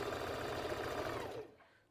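A sewing machine stitches a stretched knit band onto a McCall's M8383 dress, a brief close whir of rapid needle strokes that slows and fades out after about a second and a half.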